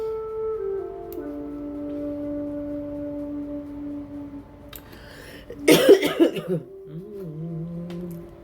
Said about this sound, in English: excuse my coughing in your ears